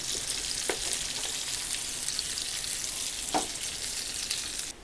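Marinated tandoori chicken pieces deep fry in oil, a dense, loud, continuous sizzle close at hand with two brief clinks, breaking off abruptly at the end.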